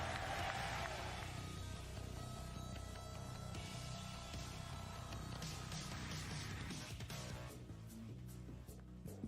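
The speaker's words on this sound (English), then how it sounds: "Make some noise for your Evo 2023 Tekken 7 champion for the fourth time" Big esports crowd cheering and applauding for the Evo 2023 Tekken 7 champion, a dense far-off roar of clapping and shouting with music underneath, easing slightly near the end.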